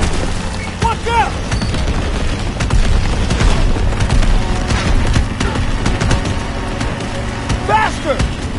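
Gunfire and booms from a World War II first-person shooter, dense continuous battle noise with shots and blasts throughout while voices shout excitedly over it.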